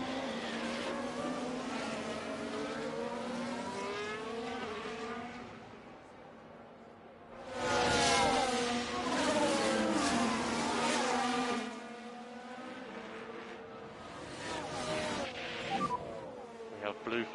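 Race cars from F1 Manager 24 at the Lusail circuit, with a Ferrari and others passing: engine drone runs steadily, swelling into a louder pass around the middle, while commentary talk continues throughout.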